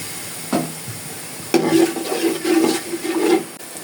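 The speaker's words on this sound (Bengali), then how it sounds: "এখন অল্প পরিমাণে পানি দিয়ে দেবো।" Water poured into a pan of chicken frying with ginger for chicken roast brings a sudden, loud sizzling rush that bursts twice and keeps hissing and bubbling close by.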